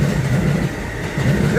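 Amtrak Acela train passing at Harrison station, a loud, close rolling rumble with rhythmic wheel clatter throughout the brief moment.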